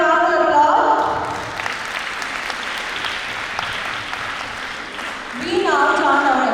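Sustained applause from a healthcare conference audience fills the room for several seconds, loud and dense, with faint musical tones at the start and end.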